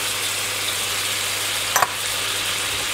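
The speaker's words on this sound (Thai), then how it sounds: "แล้วก็ผัดให้เข้ากัน" Glass noodles with minced pork, fish sauce, sugar and dark soy sauce stir-fry in a pan with holy basil, giving a steady sizzle and one quick scrape of the utensil.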